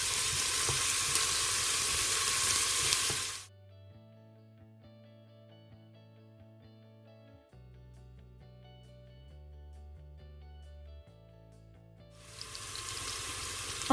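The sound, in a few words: onion frying in hot olive oil in a pot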